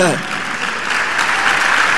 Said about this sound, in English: This is not the time for you to be yelling and be clapping and be clapping.